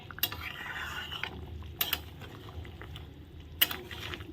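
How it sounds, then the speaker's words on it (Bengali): Boal fish heads being stirred in a cooking pot, with sharp utensil scrapes and clinks at three spaced moments over a low simmering background. "এখন মাথাগুলো দেওয়ার পর ভালো করে নেড়ে নিচ্ছি"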